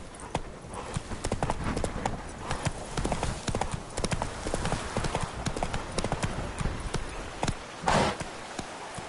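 Horse hooves clatter in a rapid, steady clip-clop rhythm as a horse gallops in The Witcher 3: Wild Hunt, played on PS5. A whinny rises near the end, and the hoofbeats stay loud and close throughout.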